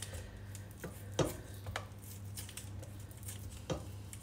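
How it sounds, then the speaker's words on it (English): Knife chopping bacon on a cutting board for creamy garlic mushrooms: a handful of sharp, uneven taps against the board over a low steady hum, close and moderately loud. "Get it all chopped up."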